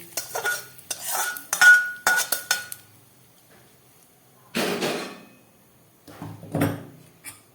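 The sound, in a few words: mixing ginger, green chilli and asafoetida into sago paste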